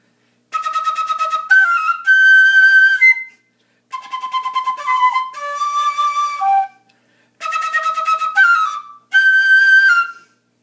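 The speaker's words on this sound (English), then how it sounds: "I have a Korean flute." A bright, piping Korean flute plays quick ornamented runs and sustained high notes from a piccolo part of Rossini's Semiramide, in short phrases separated by brief pauses, clear and close.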